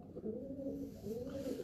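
A fancy domestic pigeon coos in low, soft, rolling tones, two drawn-out phrases heard up close at moderate volume with no talking over them.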